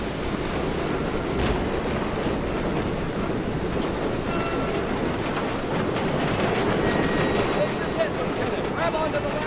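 Steady rumbling of a video game train rolling along rails in Medal of Honor: Above and Beyond, loud and continuous, with faint clattering and a brief squeal; voices talk over the noise.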